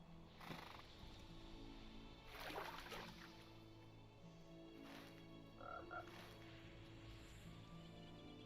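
Frogs croak in a marsh in The Lord of the Rings Online game, repeated throaty calls layered over quiet ambient music, with a brief horse whinny among them.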